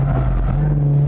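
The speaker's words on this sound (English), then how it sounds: "You have to keep revving it within the torque band." A drifting car's engine held at steady high revs within its torque band, a loud continuous droning hum with a strong low tone that barely wavers.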